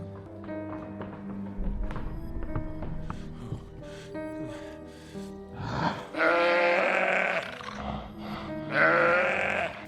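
Aggressive sheep in a horror film about zombie sheep, giving harsh bleats and grunts over a tense tonal score, with two loud, drawn-out cries in the second half.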